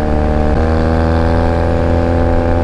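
A Honda Rebel 250 engine on the move holds a loud, constant droning hum at cruising speed, with no voices over it.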